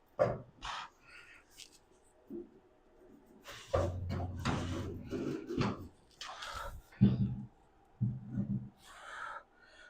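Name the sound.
heavy 1929 Chevrolet Coupe door being handled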